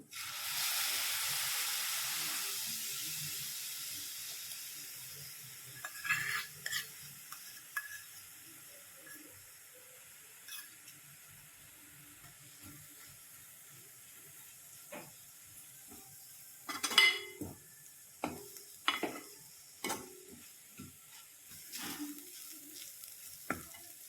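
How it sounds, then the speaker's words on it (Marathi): Milk cream going into grated coconut in a pan for coconut barfi: a loud hiss of sizzling at first that fades to a quiet simmer, then scattered scrapes and taps of stirring grow more frequent toward the end. "आता दुधावरची साय टाकते"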